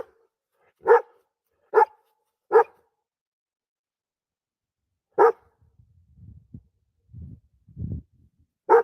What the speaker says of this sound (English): the first time I heard the dog bark, it sounded like a German Shepherd or something like that to me too